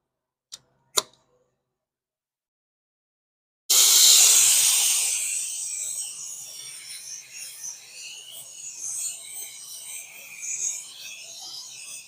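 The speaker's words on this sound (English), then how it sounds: "And blend in our edges with the clear coat blender." Clear coat blender sprays from an aerosol can onto a repaired Porsche wheel with curb rash, a steady close hiss that fades and sputters in short bursts, following two faint clicks.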